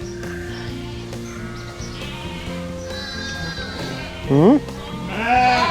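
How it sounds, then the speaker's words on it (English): A pet sheep, a first-time mother ewe in a group of ewes, gives wavering bleats toward the end against a busy farm background with a low mechanical hum and people talking. "She's one of our pets, pet sheep."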